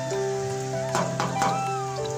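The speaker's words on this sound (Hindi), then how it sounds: "तभी बाहर तेज से बारिश होने लगती है।" Heavy rain at night in an animated Hindi moral story, a steady patter on surfaces under a sustained musical background, no voices.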